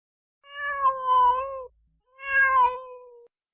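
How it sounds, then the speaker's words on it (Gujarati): A cat gives two long, drawn-out meows, clear and close, separated by a brief pause, with a faint low rumble beneath each call. "બિલાડી બોલે"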